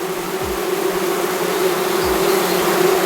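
A dense, steady hum of many black honeybees buzzing inside a hive fills the sound, loud and close, with a few faint low thumps.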